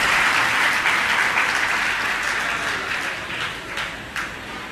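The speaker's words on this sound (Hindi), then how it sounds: "एक बार अपने लिए ताली बना लो" Sustained audience applause from a crowd at a religious discourse, loud and dense clapping that slowly thins toward the end.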